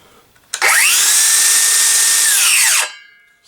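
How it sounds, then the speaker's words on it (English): A Dewalt DCS578 FlexVolt 7 1/4-inch battery circular saw, just fitted with a replacement housing, spins up, runs free with a loud steady high whine for about two seconds, then winds down. "let's go ahead and take a battery and see how this saw sounds"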